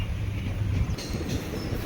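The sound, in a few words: Palakkad Superfast Express train running on rails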